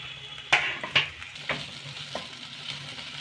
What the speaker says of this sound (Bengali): রসুন আর আদাটাকে একটু নেড়ে নিয়ে নেড়ে নিয়েছি